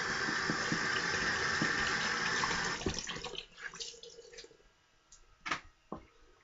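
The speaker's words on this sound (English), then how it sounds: "Cold water rinse." Cold water runs from a tap in a steady splashing stream for a rinse after a shave, then stops and gives way to scattered drips and hand splashes.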